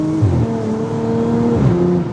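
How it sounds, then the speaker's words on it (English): Audi S5 exhaust on an upshift, a loud close engine note that drops in pitch with sharp popping bursts as the gear changes, heard twice in quick succession. "Listen to the upshift farts."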